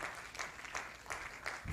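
Scattered applause from an audience at an anniversary ceremony comes in soft, rhythmic bursts, fairly faint and distant throughout.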